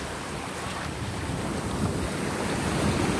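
Ocean waves break and wash onto a beach at Daecheon in August, a broad, continuous roar of surf mixed with wind buffeting the microphone, loud and close, with no voices.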